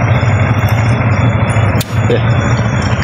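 Three motorcycles idle together in an open-air stop during a long-distance ride, a steady low engine rumble that runs throughout with a brief dip partway, while people talk nearby.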